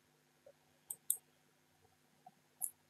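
A few light, close computer mouse clicks, single and paired, spaced irregularly over near silence.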